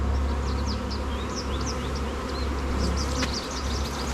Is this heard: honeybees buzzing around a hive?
yes